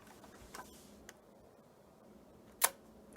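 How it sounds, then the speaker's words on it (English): A single sharp mechanical click of a Rolleiflex 3.5A twin-lens reflex camera shutter near the end, preceded by a couple of faint handling ticks in a quiet room. "Does the shutter work?"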